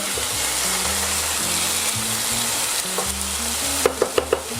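A steady, loud sizzle of red wine and shallot sauce reducing in a pan with beef flank steak fills the clip, with a few soft clinks near the end and no voices.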